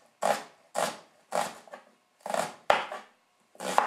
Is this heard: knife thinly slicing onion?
yes